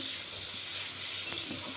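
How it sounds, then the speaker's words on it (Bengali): Black cumin, green chilli and tomato fry in hot oil with fried bata fish, giving a dense, even sizzle at close range that continues without a break for the whole moment. "এখানে কালো জিরে কাঁচা লঙ্কা আর টমেটোটা দিয়ে দিয়েছি"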